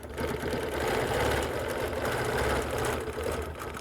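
A sewing machine stitches a quilt in chain quilting with rulers, running in a steady, even mechanical whir with no pauses and no voices.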